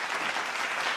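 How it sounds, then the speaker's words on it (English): A live-show audience's applause comes in as a dense, steady wash of clapping with no pauses and no voices on top, holding at an even level from start to finish. "Can I get an applause or something, man?"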